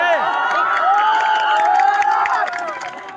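A large crowd at a political rally in Uttar Pradesh cheers and shouts, with rising and falling whoops over scattered clapping. The sound is loud and close, then eases off slightly near the end.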